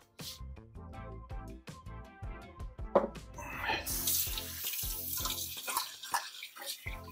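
Water from a sink tap rinses a coffee maker part, starting as scattered splashes and clinks and then turning into a steady, hissing stream near the microphone, quiet overall and with no talking.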